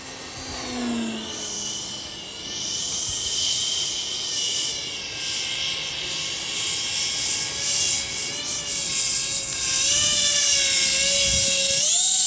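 A radio-controlled CRJ-200 model jet airplane flying, its high-pitched whining engine droning steadily at a distance and gradually growing louder and shriller toward the end, with no talking.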